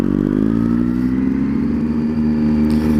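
A Triumph Street Triple R motorcycle rides through a town street, its exhaust rattling and echoing off nearby buildings, a loud, steady engine drone close by with light revving throughout.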